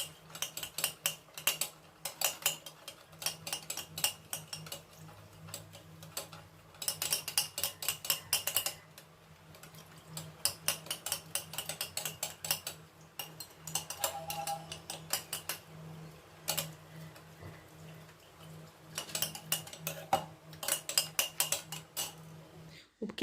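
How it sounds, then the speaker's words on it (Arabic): A metal spoon stirs strawberry jelly powder into a mix of hot and cold water, giving repeated clinks and scrapes against the bowl in uneven bursts over a low steady background hum. "وهضيف عليهم باكت الجيلي وهقلب كويس جدا مع بعض لحد ما يدوب"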